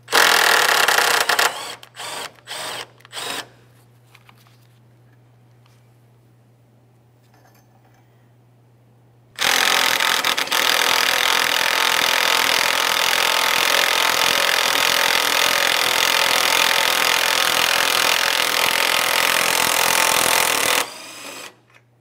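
Power tool spinning out two 10mm-headed mounting studs on a 2015-2019 Subaru Outback 2.5L, a few short buzzing bursts followed by a long, loud continuous whir of about eleven seconds.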